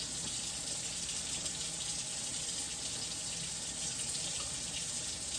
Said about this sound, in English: to turn off the faucet, we're going to grab another one. We're going to turn off the sink with it.